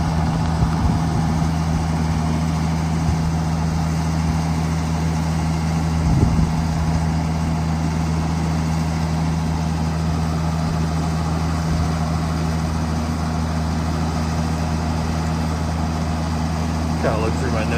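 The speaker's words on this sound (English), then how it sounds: "we'll start raising that boom up." A 1996 AG-CHEM Rogator 854 sprayer runs steadily with a low, constant engine drone and hum while its boom is raised, a near and continuous mechanical sound with no clear breaks.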